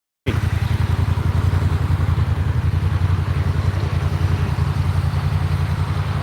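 Honda DCT motorcycle engine running steadily up close, a loud, continuous low throbbing rumble that holds for several seconds with only slight rises and no talk.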